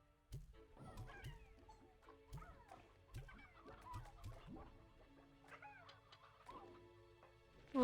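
Hens cluck in the video game Slime Rancher 2, a quiet series of short, repeated clucks and chatter with brief pauses between bursts.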